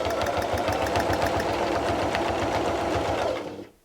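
A sewing machine runs steadily, stitching fabric for a quilt appliqué with a straight stitch, its rapid even mechanical rhythm close and loud for about three seconds before cutting off.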